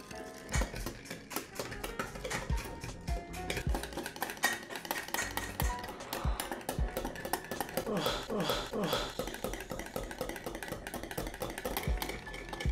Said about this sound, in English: now that we have the ingredients in, let's mix this